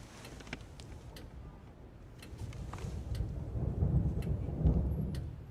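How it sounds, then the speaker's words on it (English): A thunderstorm heard as a low, swelling rumble of thunder that builds toward the end, under faint ticking and scattered small taps, fairly quiet and distant. "Here's a storm."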